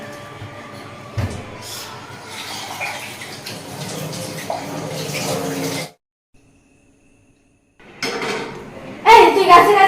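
Dishes, pots and pans are washed under running water in a home kitchen, a continuous splashing clatter that stops briefly and then resumes with louder clanks.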